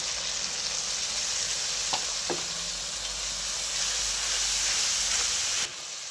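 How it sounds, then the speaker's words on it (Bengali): A pan of fish curry with salt hisses with a steady, loud frying sizzle, broken by a couple of faint stirring scrapes before the sound drops off near the end. "এবার ভালো করে নেড়ে চেড়ে নিচ্ছি।"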